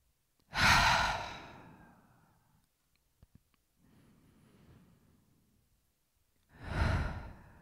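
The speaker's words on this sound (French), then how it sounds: "Inspirez par le nez et relâchez profondément par la bouche." Deep breaths exhaled through the mouth during a guided summer meditation: two strong, airy sighing exhales several seconds apart, with a softer breath between them and quiet pauses, no talking.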